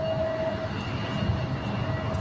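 A China Airlines Boeing 777 from Taipei approaches LAX, a steady low engine roar with a faint whine over it, heard from a distance with no talk.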